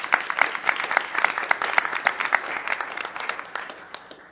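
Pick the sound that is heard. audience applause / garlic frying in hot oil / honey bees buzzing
audience applause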